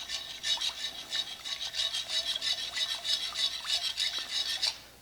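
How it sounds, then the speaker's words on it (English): Sourdough starter being stirred into whole wheat dough, a steady scraping, rasping rhythm of repeated strokes, close and moderately loud, with no voices. "And now I gotta stir in the starter a little bit."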